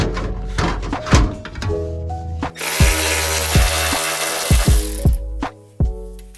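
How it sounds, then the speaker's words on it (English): A power tool loosening the exhaust mid-pipe bolts on a Mazda 3 during a turbo exhaust install, heard as a loud, close, rattling buzz with repeated sharp thunks and metallic knocks. "Now we got Tristan trying to take out the mid-pipe bolts."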